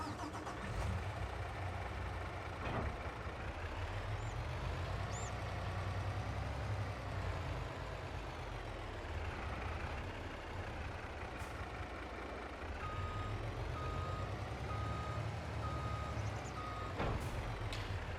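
Truck engine idling and reversing in Farming Simulator 22, a steady low rumble held throughout with repeated reversing beeps and a few short mechanical clicks, loud and close with no one talking.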